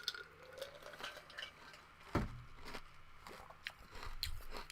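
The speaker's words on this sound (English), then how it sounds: "Some people don't like the sound of ice crunching." Ice being chewed and crunched close up, with a sharp loud crunch near the middle among softer biting and grinding bites, no talk.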